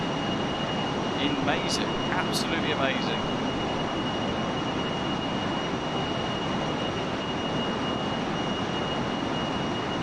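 A Fokker F28 Fellowship airliner in Microsoft Flight Simulator, its jet engines a loud, steady broadband roar with a thin whine on top, while someone speaks briefly over it.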